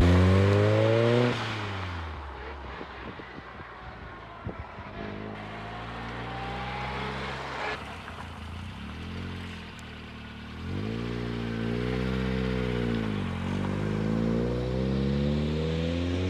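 A 550+ bhp Ford Escort Cosworth engine revs hard and close, its pitch climbing and dropping in repeated sweeps, with a loud sustained surge near the end.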